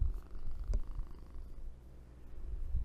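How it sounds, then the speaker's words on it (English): A shy cat purrs in a low, steady rumble close up, quiet and continuous with slight swells in loudness. "ASMR kitty rumbling?"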